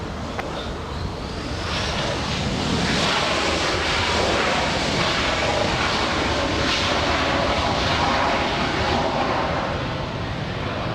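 British Airways and Lufthansa airliners taxiing at Los Angeles International Airport give a steady, fairly loud broadband jet rumble and whoosh that swells slightly and holds throughout, with no talk.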